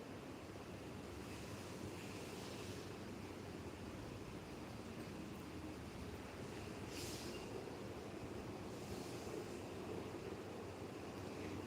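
Steady, dense hiss of rain falling continuously, broadband and even throughout with no pauses, fairly close and uniform.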